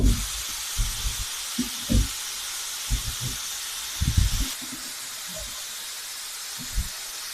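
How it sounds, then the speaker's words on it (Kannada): A pressure cooker cooking boti saaru releases steam in a steady, faint hiss, with a series of soft low thumps and knocks scattered through it. "ವಿಸಿಲ್ ಆಗಿದೆ."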